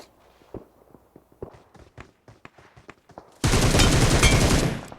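Gunfire in the PUBG Mobile video game. Quick footsteps and scattered clicks come first, then a sudden loud burst of shots that lasts over a second and stays close.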